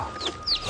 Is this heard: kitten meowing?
no